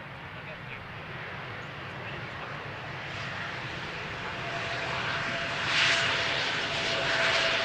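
An airplane landing on runway 18R at Amsterdam Schiphol Airport, a steady broad engine roar heard from a distance that swells slowly over several seconds without fading away, with talk mixed in.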